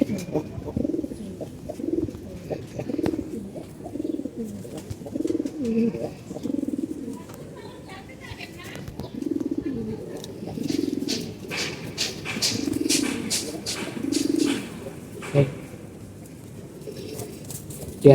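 Red gere pigeons coo in a steady, rhythmic series of low, throaty calls, close by and fairly clear, with faint chirps and small background noises between the coos.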